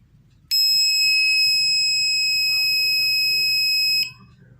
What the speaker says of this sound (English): So as you can see that the buzzer goes on.